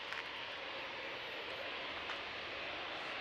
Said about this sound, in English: Ryanair just arrived.